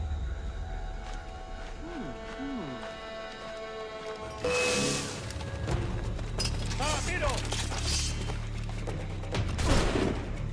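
Enemy gunner fire in Assassin's Creed IV: Black Flag, a sudden loud blast followed by repeated cracking shots and debris over ongoing game ambience and music.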